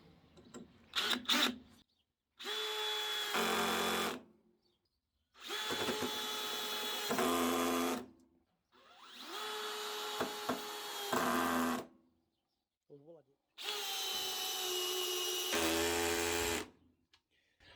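A DeWalt DCD790 18V compact cordless drill drives screws in four separate whirring bursts of about two seconds each, loud and close, with brief quiet gaps between them.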